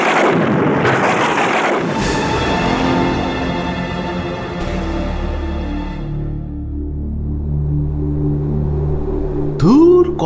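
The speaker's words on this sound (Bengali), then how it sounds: "যেভাবে বিদ্যুৎ চমকাচ্ছে, এক্ষুনি বৃষ্টি শুরু হবে বলে মনে হচ্ছে" A cartoon thunderclap before rain, with lightning flashing: a loud crackling burst followed by a long rolling rumble that slowly fades, then a brief swooshing effect right at the end.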